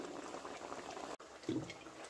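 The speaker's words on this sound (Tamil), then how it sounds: "குழம்பு நல்லா கொதிச்சிச்சு." Ladyfinger (okra) sambar with ghee bubbling as it boils in a pot, a steady soft simmering hiss with a brief dropout and a louder bubbling burst near the end.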